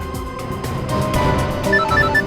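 A phone ringing unanswered, a repeated electronic ringtone pattern heard close and clear above a low background hum, with no voices.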